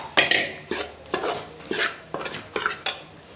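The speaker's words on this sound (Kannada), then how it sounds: "ಅದನ್ನು ಸಣ್ಣ ಉರಿ ಇಟ್ಕೊಂಡ್ಬಿಟ್ಟು ಚೆನ್ನಾಗಿ ಹುರ್ಕೊತೀನಿ" Gram flour roasting in a pan over a low flame, stirred with a metal spoon that scrapes and clinks against the pan in about six steady strokes, close and alone.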